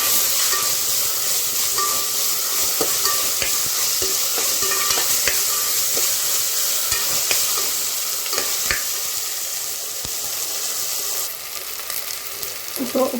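Ginger garlic paste sizzles and fries steadily in a hot pan while a spoon stirs it in scattered clinks, a close, continuous hiss with no talking, for a chicken dish with spinach and ridge gourd.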